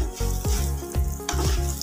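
Spices with asafoetida sautéing in a pan, a close sizzle broken by several sharp scraping and clanking strokes of a spoon against the metal, with no speech.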